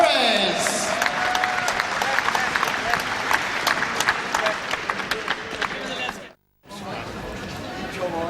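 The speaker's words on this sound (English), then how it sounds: "give a big round of applause to the one and only Mike Perez" Boxing crowd in an arena applauding and cheering as heavyweight Mike Perez, from Cuba and Cork, makes his ring entrance; loud sustained clapping and crowd roar with a brief dropout near the end.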